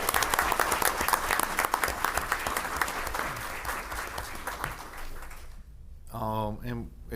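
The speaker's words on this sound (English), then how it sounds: "Everybody give them all a round of applause again." An audience at a board meeting claps in a sustained round of applause that fades out; a voice then begins speaking near the end.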